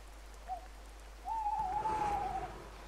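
An owl hoots in the Boogeyman horror video game, first a short faint call then a longer sustained hoot that wavers slightly, sounding fairly distant over a soft steady background hiss.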